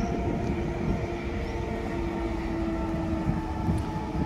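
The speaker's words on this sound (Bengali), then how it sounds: "ট্রেন আসছে যাচ্ছে" A train at a railway station in a small Russian city makes a loud, steady rumble with a sustained low hum running throughout, with no voices.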